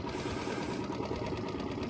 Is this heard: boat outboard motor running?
yes